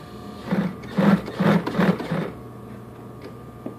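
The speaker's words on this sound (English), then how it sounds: "So now we're sewing and winding the bobbin at the same time." A Tacsew T111-155 industrial sewing machine stitching while its bobbin winds at the same time, a close run of rhythmic mechanical thumping bursts for about two seconds, then a quieter motor hum and a faint click.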